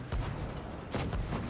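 Tank cannon fire in the WZ-113 tank game sounds as two heavy booming shots about a second apart, over a low rumbling battlefield background.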